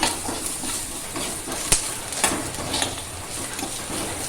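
Green gram is dry-roasted and stirred in a pan over a flame, giving a constant close crackling sizzle with irregular scraping stirs and a few sharper clicks of the spatula.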